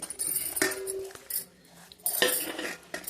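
A spoon scrapes and clinks against a plate as hand-pounded spicy chutney powder, ground in a mortar, is tipped onto it, in a few separate bursts of metallic tapping with quiet gaps between.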